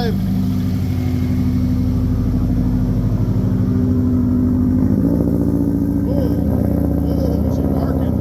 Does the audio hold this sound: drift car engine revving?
yes